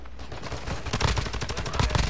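Rapid gunfire in a sniper shooting video game, a dense burst of sharp cracks and booms fired in quick succession, loud and close, continuing throughout the short stretch.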